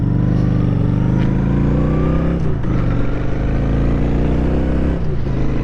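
A 2023 Honda Shadow Phantom motorcycle with a five-speed gearbox accelerates hard, its engine note climbing steadily through the gears, with brief dips at each upshift, loud and close throughout, with wind noise from highway riding.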